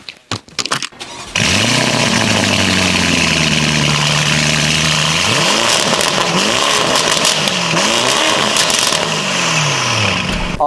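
A sports car engine starts and idles loudly close by, with several sharp revs rising and falling over the rumble.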